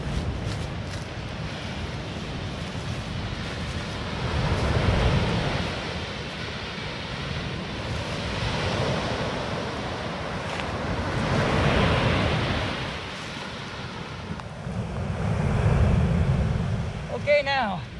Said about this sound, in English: will these waves come any higher?